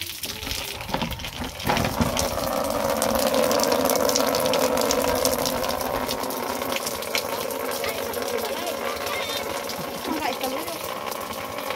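Rainwater pouring off a corrugated metal roof, a steady loud gushing rush that runs throughout, with a voice talking over it.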